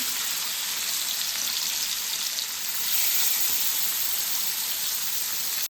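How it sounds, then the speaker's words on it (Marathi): Catla, a freshwater fish, fries loudly on a flat tava, a dense, continuous sizzle and hiss that holds steady throughout with no voices. "मच्छी आहे ती तव्यामध्ये टाकून झालेली आहे"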